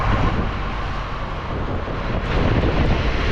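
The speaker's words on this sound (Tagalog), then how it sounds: "Lalaki ng alon dito." Strong wind buffets the microphone over the steady roar of big sea waves aboard a boat, a loud continuous rush with no clear voices.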